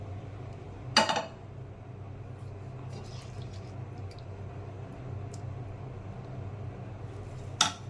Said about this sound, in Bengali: এখন মাছটা দিয়ে ঢাকনা দিয়ে ঢেকে দেব।